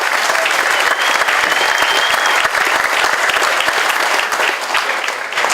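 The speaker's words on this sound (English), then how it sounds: "So a round of applause for them." An audience at a Memorial Day ceremony breaks into dense, loud, sustained applause that runs evenly for several seconds with no speech over it.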